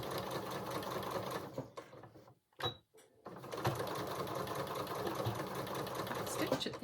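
A sewing machine stitches a dress in a close, steady whirring run, breaks off briefly with a short click, then resumes for a longer stretch, while a voice can be heard in the background.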